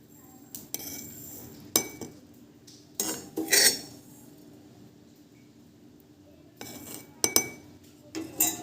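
Roasted sesame seeds scraped out of a pan and tipped into a mortar, heard as scattered metallic clinks and scrapes of a spoon between quiet stretches.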